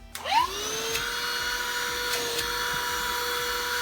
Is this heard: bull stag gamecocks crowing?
no